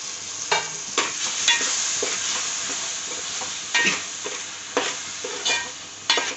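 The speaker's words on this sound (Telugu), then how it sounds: "ఉల్లిపాయ వేగిపోయింది కదండి, ఇప్పుడు ఈ మసాలా కూడా వేసుకోవాలండి" Onions and ground coconut masala frying in a pan for a Tamil Nadu style fish curry crackle with a continuous sizzle, broken by repeated sharp scrapes and knocks of stirring, no speech.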